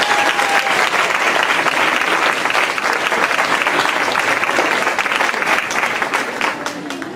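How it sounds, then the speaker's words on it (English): Steady crowd applause at an outdoor 5K race and youth fun run awards ceremony, honoring young runners; dense clapping holds loud and even throughout, easing slightly at the end. "Let's give a round of applause for the little ones."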